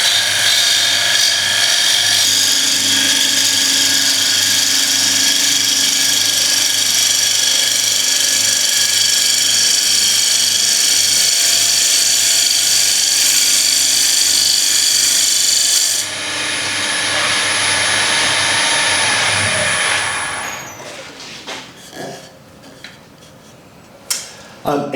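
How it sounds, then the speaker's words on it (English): A wooden bowl turning on a lathe while a gouge makes a bevel-rubbing finishing cut: a loud, steady, continuous scraping hiss with a machine hum beneath, shifting partway through, then breaking into irregular scrapes and taps as the cut ends. "Now we're going to do a bevel rubbing cut. This is going to be our finishing cut."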